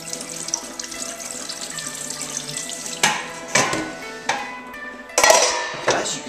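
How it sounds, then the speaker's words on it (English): Tap water runs steadily as sushi rice is washed and drained in a sink, a continuous splashing stream broken by a few louder bursts and sloshes near the end. "This is me washing the rice and draining it."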